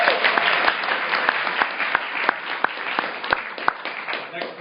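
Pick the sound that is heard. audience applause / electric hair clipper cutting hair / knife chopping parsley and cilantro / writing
audience applause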